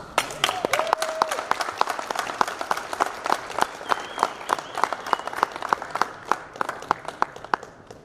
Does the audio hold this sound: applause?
yes